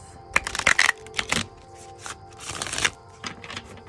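Crisp, papery riffling of an oracle card deck being shuffled in several quick bursts, close up, with soft pauses between them and no talking.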